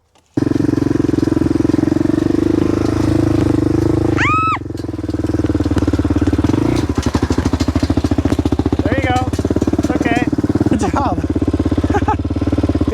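A Honda 400EX ATV engine runs while the quad rolls along in gear, a loud steady throbbing drone with rising revs and shifts. Voices talk over it now and then.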